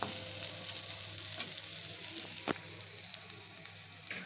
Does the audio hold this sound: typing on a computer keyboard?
no